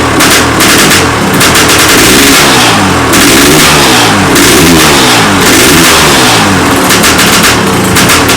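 A 1994 KTM 550 M/XC dirt bike engine runs loud and rough, its pitch rising and falling in repeated revving bursts with a rapid, chattering exhaust beat.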